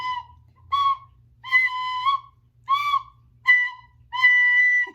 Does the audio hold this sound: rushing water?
no